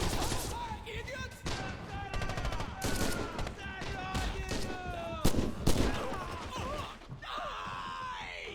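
Rifle and machine-gun fire crackle in rapid bursts in Red Orchestra 2: Heroes of Stalingrad, with sharp nearby shots, groans and shouted voices mixed through the battle noise.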